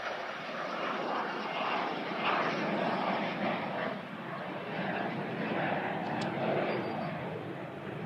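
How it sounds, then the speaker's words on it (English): A regional jet takes off toward Minneapolis, its engines producing a loud, sustained roar that swells and eases slightly as the aircraft climbs away, heard alone without talk. "Wow, those engines were awesome."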